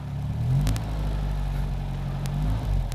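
A 1951 MG TD Midget's engine idles in neutral just after starting on manual choke, with a steady low rumble and slight rises in revs, close and fairly loud.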